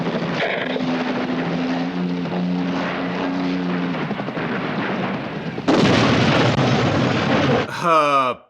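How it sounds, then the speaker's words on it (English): Loud mechanical roar of a helicopter, then a sudden harsher, louder burst of a helicopter crash that ends abruptly. "this helicopter crash wasn't planned"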